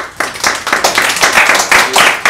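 A theatre audience claps briskly for a couple of seconds, loud and close, a short burst of applause during a live stage show.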